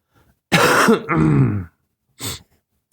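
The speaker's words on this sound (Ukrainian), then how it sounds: "Там кашля." A person nearby clears their throat with a harsh, rasping cough, then gives one shorter cough after a brief pause.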